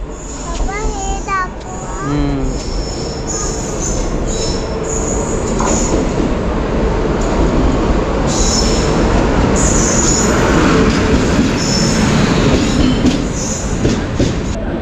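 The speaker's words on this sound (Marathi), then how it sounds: "कोणती तरी ट्रेन आले आहे ट्रेन आली बघले" A Hazrat Nizamuddin express train on the Konkan Railway rumbles and clatters into a station, wheels squealing in high shrill bursts, loud and close, with a crowd murmuring underneath.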